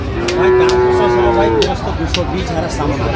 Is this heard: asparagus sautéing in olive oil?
no